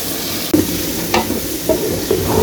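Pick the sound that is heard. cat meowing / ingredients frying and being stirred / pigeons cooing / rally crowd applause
ingredients frying and being stirred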